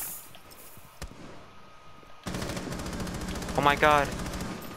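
Rapid automatic gunfire in the Rainbow Six Siege video game, a dense rattling burst of shots that starts abruptly and continues loud, with a single sharp shot earlier and a man exclaiming over it.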